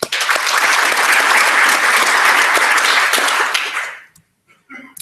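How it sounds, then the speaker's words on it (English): A conference audience at a DNS operations meeting claps in a sustained, loud round of applause that fades out, followed by a brief voice. "quick round of applause for Antoine and Chris."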